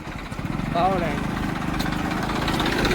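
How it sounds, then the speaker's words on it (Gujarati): A steady, rhythmic tractor engine chugs nearby throughout, with a brief voice over the throbbing idle. "સામે ટ્રેક્ટર છે."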